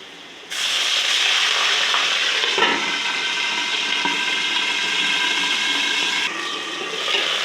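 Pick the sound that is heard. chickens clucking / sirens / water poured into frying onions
water poured into frying onions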